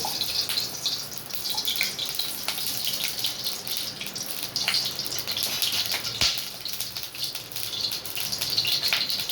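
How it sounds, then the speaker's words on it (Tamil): Cooking oil poured into a pan on the stove, a continuous close hiss and trickle with small spattering ticks, steady throughout with no talking. "இப்போ எண்ணெய் ஊற்றிக்கலாம்"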